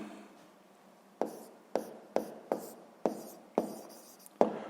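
Pen strokes on paper while writing out a sixth-grade maths exercise, about eight sharp, quick scratching taps in an irregular rhythm, close and quiet with no voices.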